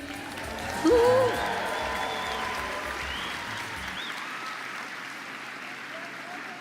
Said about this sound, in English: Can we give a round of applause to all the graduates of the CEMS Graduation 2025?